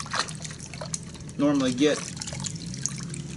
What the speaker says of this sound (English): When you put it in the water, it's not sitting at the bottom like you would normally get.